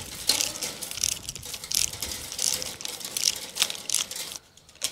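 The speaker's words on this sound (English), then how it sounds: "the process for undoing the strainers is reasonably simple. I simply move that lug," A Strainex fence wire strainer's ratchet is released by hand, giving a close series of sharp metallic clicks and clacks in an uneven rhythm, then a brief pause and a final click.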